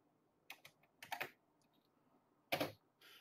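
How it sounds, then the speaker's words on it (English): Typing on a computer keyboard while writing a book chapter: scattered bursts of quiet key clicks with pauses between them, close and soft, with no talking. "I'm going to start typing into this."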